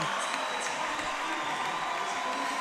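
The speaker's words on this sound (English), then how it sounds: "as does the rest of the starting 5, to a rousing applause here at Tarbell Pavilion" Steady applause and cheering from a home crowd at a Swarthmore men's college basketball game at Tarbell Pavilion, rising as the starting five leave the court. Dense, continuous clapping fills the whole stretch.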